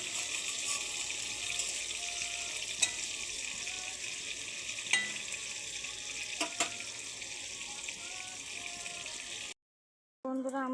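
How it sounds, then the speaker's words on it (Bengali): Fish fries in a pan with a steady, even hiss of hot oil and a few faint clinks, close by, stopping abruptly near the end with a brief silence. "বন্ধুরা, আমার মাছ ভাজা হয়ে গেছে"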